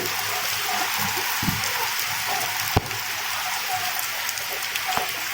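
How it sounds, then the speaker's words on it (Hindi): Heavy rain pours steadily outdoors, a dense, continuous hiss of drops on surfaces with a few louder splashes and knocks standing out from the wash. "संगवारी हो बड़ पानी गिरा थे"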